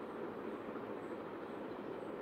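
A train rumbles past in a steady, dense roar of wheels and rail noise, moderately loud and unbroken throughout, with no voices.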